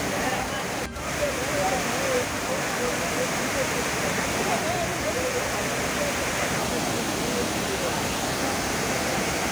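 Steady broadband rush of water pouring down the Courtallam waterfalls in Tamil Nadu, a dense continuous roar with faint voices of bathing tourists in the background throughout.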